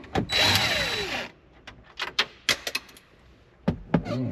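A power tool whirs briefly and loudly while pulling two 7mm screws from the gauge cluster of a slammed GMC Sierra truck, followed by scattered clicks, taps and rattles of parts being handled nearby.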